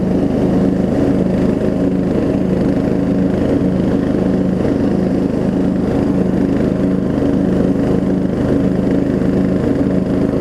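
A Murray riding lawn mower engine runs steadily on a test run after a gas tank install, a loud, continuous droning idle close by with no pauses and no talking.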